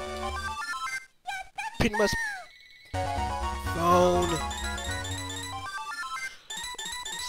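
Phone ringtone playing a bright melodic tune, heard amid game music and a voice talking briefly over it.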